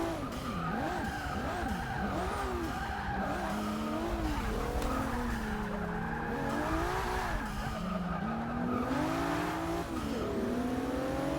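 A Volvo S60 race car in Forza Motorsport 6 holds a steady, loud engine drone with shifting pitch and tire squeal through the corners, continuous and close with no speech.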